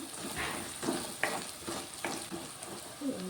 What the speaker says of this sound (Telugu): అల్లం వెల్లుల్లి పేస్ట్ ఫ్రై అయిపోయిందండి పసుపు వేసుకున్నాను